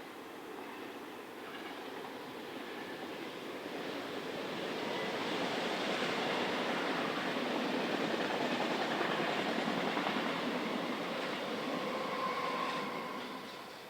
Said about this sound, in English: A Class 464 powered train follows shortly after.